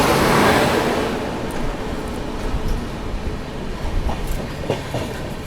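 Onboard the 12450 Goa Sampark Kranti Express from Delhi to Goa while it overtakes the Punjab Mail, a close, loud rumbling roar with steady clickety-clack of the wheels, strongest at the start and easing slightly, with no talking.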